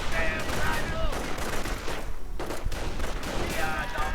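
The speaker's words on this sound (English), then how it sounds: "More Gewehr 43 action going up." World War II rifle fire, including a Gewehr 43, rings out in a video game battle between riflemen and Panzergrenadiers, a dense fusillade of sharp, overlapping shots and blasts at medium distance over a constant roar of battle.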